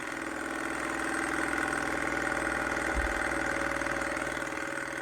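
Flywheel of a small flame-powered engine keeps spinning after the flame is snuffed, a steady close mechanical whirring hum with a rapid rhythmic ticking and one soft thump midway.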